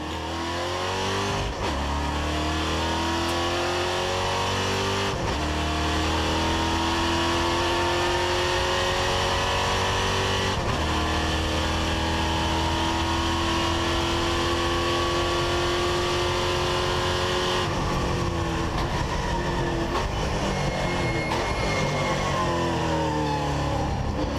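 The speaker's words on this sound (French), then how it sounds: "Écoutons quelques instants le moteur V8 de la Chevrolet du pilote Cal Racing." A Chevrolet V8 NASCAR Whelen Euro Series race car engine roars at high revs at Monza, its pitch rising and falling through gear changes and corners, loud and continuous with no talking.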